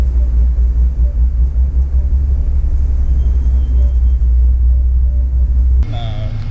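A Ford Mustang engine drones steadily with a deep, loud, continuous rumble while driving on a winding back road near Pottenstein, with a shift in tone near the end.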